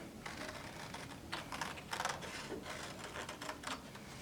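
Scissors cutting paper around a black outline, a close, steady crisp rustle of small snips with no voices.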